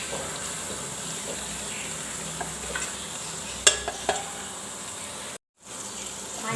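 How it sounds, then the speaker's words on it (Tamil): Ginger garlic paste frying in a pan while cooking chicken and mutton, a steady soft sizzle with a few stirring clicks and a brief dropout near the end. "இஞ்சி பூண்டு பேஸ்ட் வாசனை நல்லா போனதுக்கப்புறம்"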